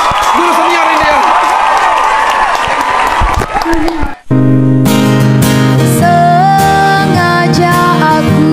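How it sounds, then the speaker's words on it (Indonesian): Loud, dense applause and cheering from a crowd fill the room for a senior primary school teacher, then cut off abruptly into music. "Tepuk tangan untuk guru senior ini ya."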